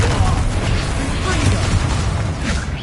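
A fiery Confringo blast spell goes off in a Harry Potter wizard video game, a dense, loud rumbling burst layered with game effects while a voice shouts over it.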